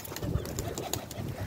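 A pigeon newly released from its loft coos softly and repeatedly, close by, with a steady background hiss and no voices.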